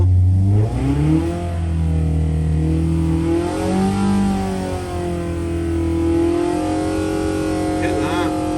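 A car engine on a dyno, 1040 and 1200 Davrian setups, revs steadily under load from low rpm, a loud continuous drone with a rising and falling pitch and no speech over it.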